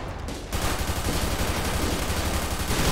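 Gunfire in Grand Theft Auto V with a police patrol mod: dense, loud, continuous bursts of rapid shots that start abruptly after a short lull and keep rattling without pause.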